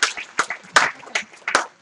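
A small audience claps for a speaker, a handful of sparse, separate claps spaced out over under two seconds.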